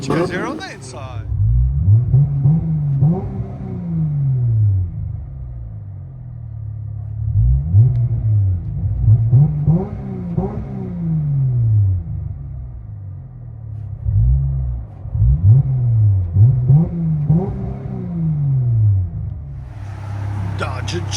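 Inside a 2019 Dodge Challenger SXT 3.6L V6 fitted with glass packs, AP mids, rear delete and J-pipes, the engine rumbles through repeated rev cycles, each rising and falling in a deep swell over steady idle.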